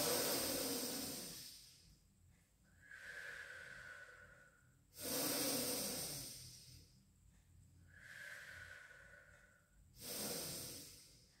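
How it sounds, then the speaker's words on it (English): Slow, deep breaths drawn in through the nose during a Pilates rehab mobility session, each long airy inhale followed by a softer exhale, repeating about three times close up with no talking. "Take a deep breath in through the nose."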